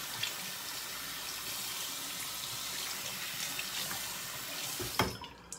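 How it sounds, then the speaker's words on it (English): Tap water runs steadily into a shaving lather bowl as it is rinsed out, a close, continuous splashing flow ending with a brief clunk as it stops. "Rinse off the lather just to see."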